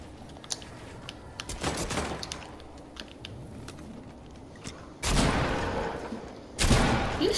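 Video game gunfire in a battle royale match, with scattered clicks and pops leading into several dense, loud bursts of shots, the strongest two arriving close together near the end.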